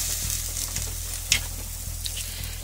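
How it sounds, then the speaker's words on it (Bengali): Chicken meat goes into a pan of frying masala for a home-style desi chicken curry, giving a steady low sizzle with faint periodic clicks and one brief scrape partway through. "এখন দিদি মাংসটা ঢেলে দেবে।"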